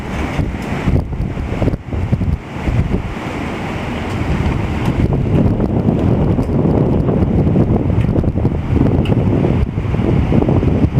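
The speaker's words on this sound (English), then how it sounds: "got to be 60-mile-an-hour winds right there" Strong gusty wind from a land hurricane storm in Virginia with gusts near 60 mph, roaring as continuous broadband noise that buffets the microphone and builds steadily louder across the stretch.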